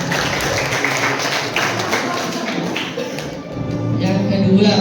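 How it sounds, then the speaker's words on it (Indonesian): An audience of students in a school hall breaks into applause, a dense wash of hand clapping that holds steady and swells slightly at the close. "Tepuk tangan dulu."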